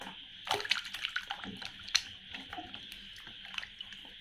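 Toy vegetables being washed in water make close splashing and sloshing with small drips and squishy handling sounds, in uneven bursts over a few seconds.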